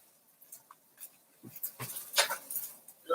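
A puppy whimpers and pants in short, soft, high bursts, quiet and close, in a home kitchen during a live cooking class, with no talk over it.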